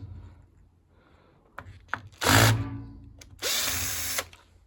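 A power drill backs screws out of a Triton T80xr electric shower during a teardown. It gives two loud, close whirring bursts of about a second each, with small clicks and handling noise between them.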